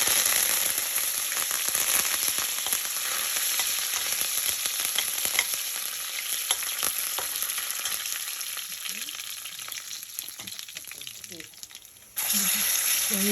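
Curry leaves and whole spices hit hot oil for a nasi lemak curry and crackle in a loud, steady sizzle with sharp pops, ending with an abrupt change near the close.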